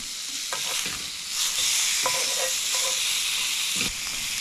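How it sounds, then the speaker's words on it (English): Butter melts and sizzles loudly in a frying pan where striped bass fillets are cooking, a close, continuous hiss broken by a few knocks and scrapes as the pan is handled. "I'll melt a little more butter in there"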